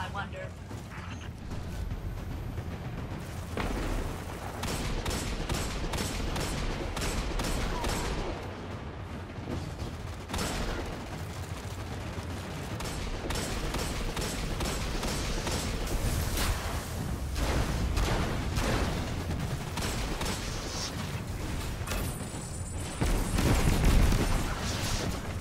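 Rapid hand cannon gunfire in the Destiny 2 video game during a public event on Nessus, repeated sharp shots over dense game effects and music, with a voice talking over it throughout.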